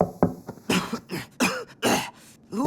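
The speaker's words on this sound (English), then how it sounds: "you're coughing." A cartoon character gives a short series of dry, raspy coughs and throat-clearing hacks in quick bursts, close and fairly loud, with brief pauses between them.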